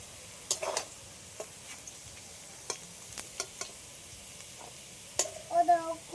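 Chow mein ingredients with chopped onion fry in a pan, giving a soft, sparse sizzle broken by occasional sharp scrapes and clinks of stirring, with a brief louder burst of sizzling at the end.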